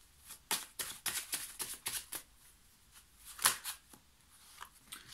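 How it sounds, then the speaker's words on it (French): Tarot cards being gathered and shuffled by hand, a run of quick riffling bursts followed by a couple of softer shuffles, close and fairly quiet with no talking. "Je récupère les cartes."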